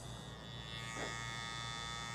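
A TOMB45 x Babyliss hair clipper/trimmer runs with a steady, continuous electric buzz and hum, close and even throughout without talk.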